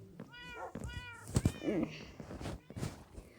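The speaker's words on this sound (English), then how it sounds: "this is my real life cat, Hobbs." A pet cat meows repeatedly at home, several short clear calls in a row, close and fairly loud, with a person's voice talking around them.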